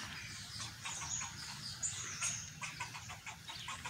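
Rapid high-pitched squirrel chirps repeat in short bursts over a steady outdoor background hum, fairly close and moderately loud.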